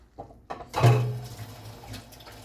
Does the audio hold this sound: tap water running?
yes